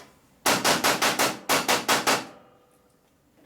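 A hammer strikes metal in two quick bursts of ringing blows, five strikes and then four, close and loud, during repair work on a 1988 Harley FXR motorcycle in a garage.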